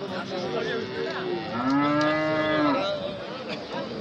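A single drawn-out moo from a good-breed bull calf rises over steady crowd and animal noise at the weekly Kuzhalmannam cattle market in Kerala.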